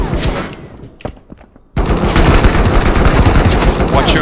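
A Bren gun hammers out sustained automatic fire in a shooter game, loud and close after a brief lull with scattered single shots, a steady rapid stream of reports continuing to the end.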